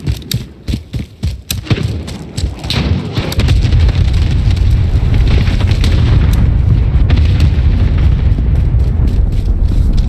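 An enemy cluster strike airstrike in Call of Duty: Modern Warfare brings a rapid string of heavy explosions and thuds, close and loud. The blasts then merge into a sustained roaring rumble.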